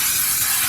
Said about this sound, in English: It doesn't say that you need to grease with anything special. I'm just using this Pam coconut oil.